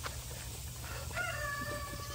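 Chickens on a farm with dogs around, faint bird calls and a brief clucking or crowing sound over a low steady background hum, heard at a distance.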